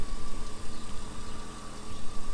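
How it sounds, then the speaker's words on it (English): A 2002 Jeep Overland engine idling steadily, a close, continuous rumble with a dense broadband hum and a slight rhythmic pulsing, no voices. "The engine is running quite stable."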